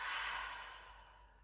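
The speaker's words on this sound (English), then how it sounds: "just begin to inhale through the nose and exhale through the mouth." Slow yoga breath, drawn in through the nose and released out through the mouth as a single soft, airy exhale, close and quiet with no talking.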